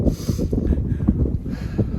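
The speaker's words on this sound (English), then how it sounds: "it's super windy, so hopefully you can hear me" Low, blustery rumble of strong wind buffeting the microphone, steady and close throughout.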